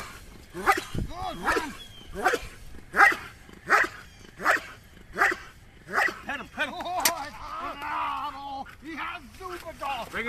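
A dog barks repeatedly in a steady rhythm of loud, close barks, roughly one per second, during protection-dog training with a helper, while people talk at intervals.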